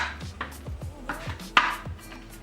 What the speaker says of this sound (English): Chop those, roughly chop those.